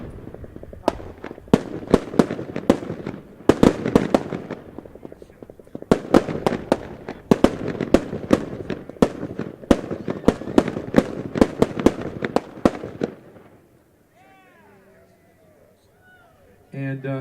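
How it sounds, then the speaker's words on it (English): Maltese mechanized fireworks with sharp, irregular bursts and crackling pops in rapid clusters over about thirteen seconds, loud and close, then a quiet stretch with faint high-pitched sounds before a last burst. "Malta, they make these amazing mechanized fireworks"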